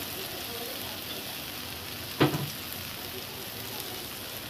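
Spices with turmeric powder frying alongside onion in a pan, a soft, even sizzle with one brief clattering knock of a utensil partway through.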